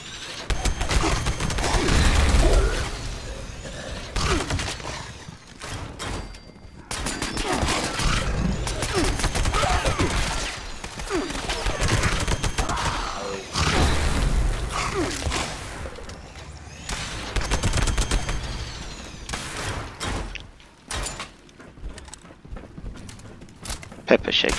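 Pepper Shaker gun in Fallout 76 firing in long, dense bursts of gameplay gunfire with thuds and whooshes, loud and continuous with brief gaps, while someone talks over it.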